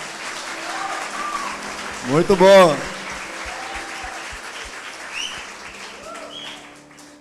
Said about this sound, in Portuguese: pode dar um aplauso aí.